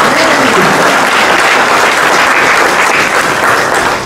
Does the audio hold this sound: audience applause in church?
yes